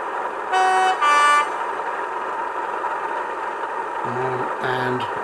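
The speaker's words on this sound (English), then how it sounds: "And another horn." Another horn sounds through a homemade speaker enclosure on a model railway: two loud, close high toots early on, then a lower, rougher two-note horn near the end over a steady background hum.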